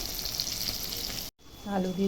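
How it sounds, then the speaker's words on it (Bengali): Steady crackling sizzle of fish frying in hot oil, cutting out briefly then returning loud and close with bubbling. "আজ এই যে মাছটা ভেজে নিচ্ছি"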